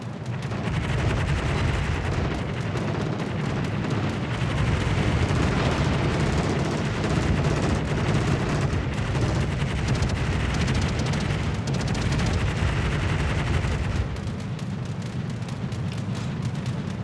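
Warship anti-aircraft guns in World of Warships fire in a dense, continuous rattling barrage, loud and close, easing slightly near the end.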